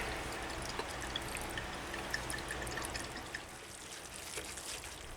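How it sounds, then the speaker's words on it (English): Worcestershire sauce poured into a cast iron pot of stew, soft trickling and dripping liquid sounds with light splashes, faint and continuous with a little background noise. "A dash of Worcestershire sauce."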